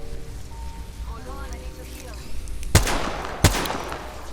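Two sharp, loud gunshots in Apex Legends, cracking out about a second apart over a low game-ambience bed, after a stretch of quieter background sounds.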